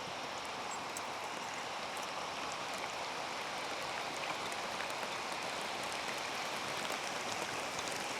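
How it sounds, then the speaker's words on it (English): Steady cold rain pours down outdoors, a dense, unbroken hiss with fine patter that holds at an even level throughout, with no voices. "That rain is cold too."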